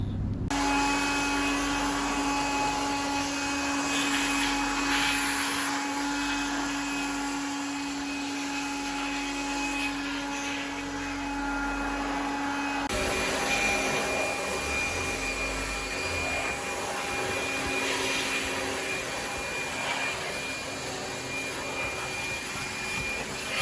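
Powerful air blowers in a computerised car wash tunnel roar steadily as they dry a car, a loud continuous whooshing drone with a sustained whine that shifts character partway through.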